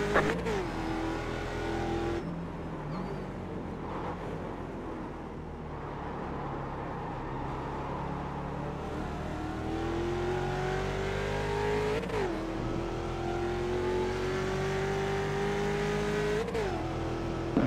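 Race car engine heard from onboard on a track in slow, wet weather: loud, continuous engine drone rising in pitch through several gear shifts, with brief dips between gears.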